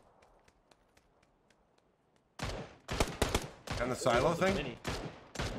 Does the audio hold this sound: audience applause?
no